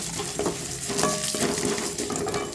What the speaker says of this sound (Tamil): அதையும் லைட்டாக ஒரு வதக்கிட்டு அது கூடவே காஞ்ச வரமிளகா அதையும் அது சேர்த்துக்குவோம்.